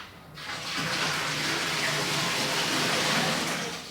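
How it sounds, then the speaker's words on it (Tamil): Bucket of water poured into a fish tank, a steady, full gush of water running continuously into the tank at close range, with no talk. "ஸோ இப்போ ஒரு பக்கெட் தண்ணி ஊற்றிருக்கோம்."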